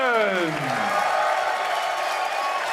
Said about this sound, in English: a big round of applause and congratulations for our champion today